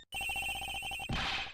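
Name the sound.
cell phone ringing in Ace Attorney Investigations video game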